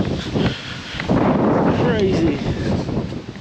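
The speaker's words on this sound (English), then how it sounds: "Dang, this wind." Strong gusting wind during an Arkansas storm roars across the microphone in heavy buffeting bursts, loud and close, with a brief muffled voice in it.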